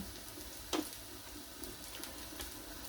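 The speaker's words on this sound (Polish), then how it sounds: "Cukinia się już smaży pięknie." Zucchini frying in a pan gives a steady, soft sizzle that runs throughout, with one brief louder crackle or clatter near the start.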